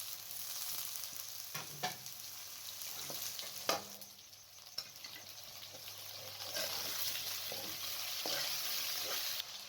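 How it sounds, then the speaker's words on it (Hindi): Potatoes frying with white cumin and fennel seeds in a pan, a quiet continuous sizzle broken by a few light clinks of stirring, with no talking. "साथ में अब आलूओं को डाल लें और 3 से 4 मिनट तक भून लें।"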